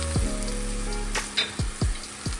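Vegetables sautéing in a pan on medium heat, a soft steady sizzle with a few short clanks and stirring knocks over about two seconds.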